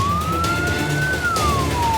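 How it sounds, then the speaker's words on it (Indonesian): A single fire engine siren from the Kotim regency forest and land fire response team wails steadily, rising and falling in pitch, fairly loud and close over road noise. "Raungan sirine mobil pemadam kebakaran dari tim Posko Gabungan Karhutla Kabupaten Kotim hilir mudik menuju lokasi kebakaran."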